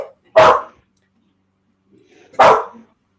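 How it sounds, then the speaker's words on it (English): Two loud, close dog barks about two seconds apart, each a single sharp bow-wow with silence between them. "Dogs are barking."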